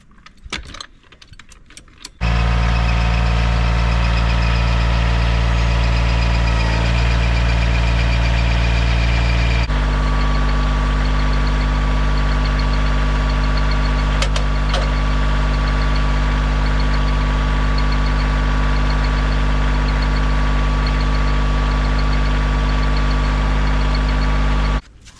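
A tractor engine idles steadily at a sawmill while handling a heavy frozen red oak log, a loud, constant low rumble with a rattling metallic jingle on top, running nearly the whole time without speech.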